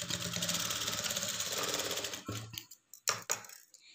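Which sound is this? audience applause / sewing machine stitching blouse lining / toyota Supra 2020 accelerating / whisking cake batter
sewing machine stitching blouse lining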